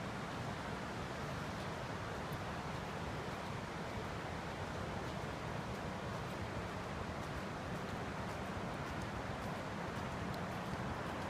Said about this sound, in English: that roaring river that you guys can probably hear, that's the Little Sioux